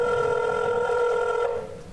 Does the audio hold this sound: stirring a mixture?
no